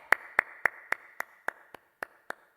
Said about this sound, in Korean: 우리 목사님 나오실 때 할렐루야로 하나님께 영광 돌리고 큰 박수로 맞이하겠습니다.